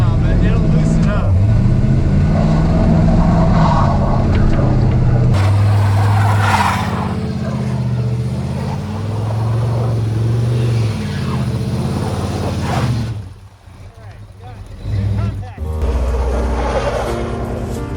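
A vehicle engine hums and rumbles steadily at close range while driving, with a low droning tone that rises and falls with speed, and people talk over it throughout.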